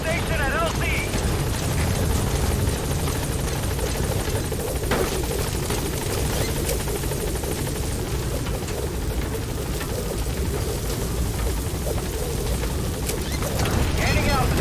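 The Pequod helicopter from Metal Gear Solid V arrives at a landing zone, its rotor and engine making a loud, continuous dense roar with rumbling low end that fills the scene, with a brief radio voice heard over it.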